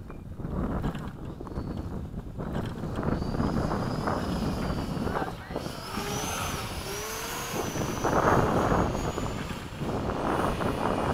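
An F-16 jet makes a slow high-alpha pass over a runway, a steady loud engine roar with rushing wind noise throughout, swelling slightly as it goes, heard from the cockpit.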